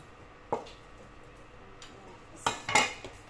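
A knife cuts into a fish head on a board while preparing it for cooking, a few sparse sharp clicks and scrapes over quiet background, close and brief.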